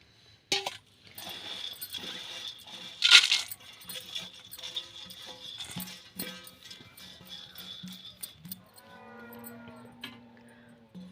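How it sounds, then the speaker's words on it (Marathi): Sprouted moth beans are tipped into a vessel, giving scattered clinks and pattering of small hard grains against the container, with a sharp loud rattle early on and softer, sparser clicks afterward. "आता ही मटकी आता आपण एका भांड्यामध्ये काढून घेऊया"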